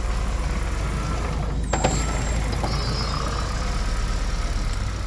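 A Toyota Prius engine idles roughly with a steady low rumble and broadband noise, briefly dipping as if about to stall before catching again.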